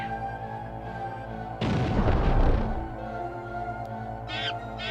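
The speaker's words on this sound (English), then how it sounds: "Sure, we like explosions." An explosion in the video game Alundra bursts out as a loud, noisy boom lasting about a second and fading, over steady tonal game music, with a few bright chirps afterward.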